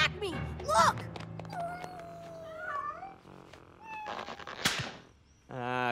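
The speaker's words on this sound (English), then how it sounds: "Ooh, more kitties!" Cartoon cats meow in quick succession, a chorus of high, wavering animated cries with sliding pitch, mixed with cartoon sound effects and voices talking between them.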